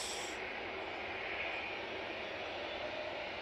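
An aircraft at Manchester Airport produces a steady, broad jet roar that holds level and fairly faint at a distance throughout, with no voices.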